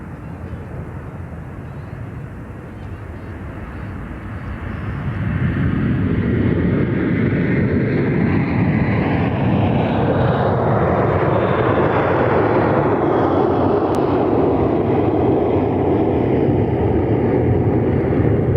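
A Boeing B-52H Stratofortress bomber at the Mildenhall air show roars overhead, its jet engines building to a loud, sustained rumbling drone that sweeps past and lingers.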